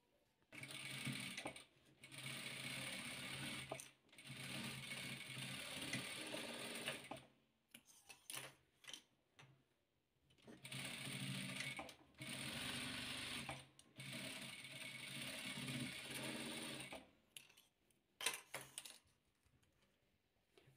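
A sewing machine stitches red and blue patchwork fabric pieces, running in long steady bursts of rapid mechanical whirring, stopping and restarting several times with brief handling clicks between runs, close and alone without talk.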